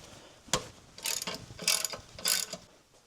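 A ratchet turns the crank bolt to rotate a 302 engine in a 1986 Ford F-250, making three close bursts of rapid pawl clicking with short pauses between them.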